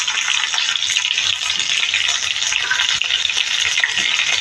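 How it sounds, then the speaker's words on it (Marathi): Cumin seeds and green chillies sizzle in hot oil as a tempering for a carrot salad, a loud, steady crackling hiss close up that lasts throughout with no talking. "जिरं चांगलं आपलं तडतडलं की आपण त्यामध्ये ओली मिरची टाकणार आहोत"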